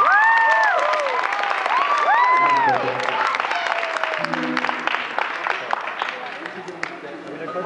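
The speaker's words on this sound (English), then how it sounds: "She deserves a round of applause," A live music audience breaks into applause mixed with cheers, whoops and high excited shouts, loud and dense at first and easing slightly while the clapping carries on.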